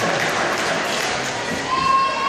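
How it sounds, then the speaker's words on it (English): Audience applause at a sea lion show at Blair Drummond Safari Park near Stirling, a crowd clapping steadily at mid distance with some voices mixed in. "Clapping."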